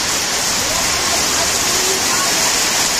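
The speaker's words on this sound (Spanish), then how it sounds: "Agua, lluvia, bendiciones del cielo." Heavy rain pours down in Higüey, a dense, unbroken hiss of water drumming on surfaces close by, loud and constant throughout the few seconds.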